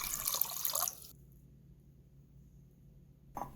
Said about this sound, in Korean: 준비한 가지는 흐르는 물에 한번 깨끗하게 헹궈주시고요.